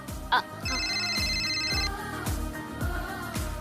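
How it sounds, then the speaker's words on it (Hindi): A mobile phone rings in a Hindi TV serial scene, a bright repeating electronic ringtone over background music with a short voice at the start. "ये तेरा फोन आ रहा है।"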